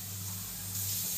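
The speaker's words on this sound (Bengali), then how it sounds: "প্রেশার কুকারটা খুব বিরক্ত করছে," A pressure cooker in a home kitchen lets off a steady steam hiss with a faint whistling tone, quiet and continuous over a brief moment with no speech.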